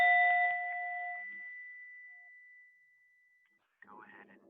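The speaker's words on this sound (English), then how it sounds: "I will start like we always do by ringing the bell 3 times." A mindfulness bell gives one clear, bright strike whose ringing tone fades slowly into silence, after which a voice begins speaking.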